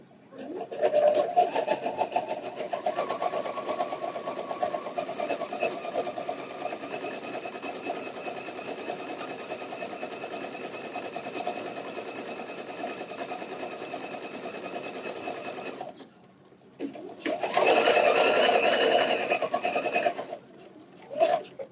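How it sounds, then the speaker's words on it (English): A sewing machine runs a steady 3-step zigzag stitch over elastic on a wireless bra, a continuous close mechanical whir lasting about sixteen seconds. It stops briefly, then starts again with a second burst. "I'm going to do my 3-step zigzag, folding back the elastic, making sure everything's nice and flat."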